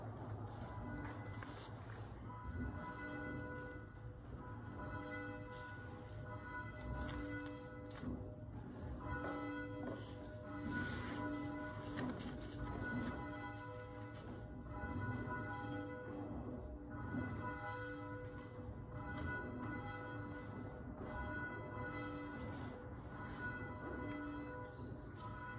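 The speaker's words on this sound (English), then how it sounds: "let us praise God for who God is and thank God for all of God's blessings as we listen to the ringing of the bell" A church bell rings repeatedly during a Thanksgiving and Stewardship Sunday worship service, faint and distant with lingering resonant tones and soft room shuffling beneath.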